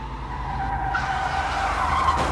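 A truck swerves hard with a sustained, loud tire skid that screeches steadily for a couple of seconds, close and alone with no voices.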